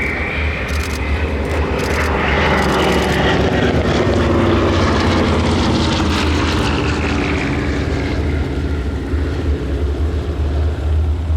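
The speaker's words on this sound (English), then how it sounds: "This is Bud Cortese going by in his airplane." A WWII-era propeller airplane roars past at a wartime weekend air show in Reading, Pennsylvania, its engine drone loud and steady throughout, with a pitch shift as it passes close by.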